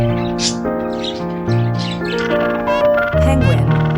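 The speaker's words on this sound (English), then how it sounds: "Parakeet." Parakeet calls, a run of bright chirps and squawks over a steady layered background, fairly loud throughout with a busier burst near the end.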